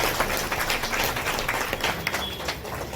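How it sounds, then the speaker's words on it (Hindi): Audience applause at a Congress women's organization meeting, a continuous wash of clapping from a crowd, fairly faint and steady for a few seconds. "एक बार तालियां।"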